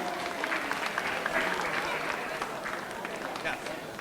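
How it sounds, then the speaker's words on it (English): Applause from the audience after Nalu's Indian dance performance at the LHS Diversity Festival, a steady crowd clapping with voices murmuring and talking underneath throughout. "Let's give Nalu another round of applause."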